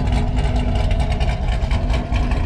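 Krypton green Chevrolet Camaro with a tuned 6.2-liter LT1 V8 making 535 wheel horsepower, idling steadily with a deep, loud, rumbling exhaust drone throughout.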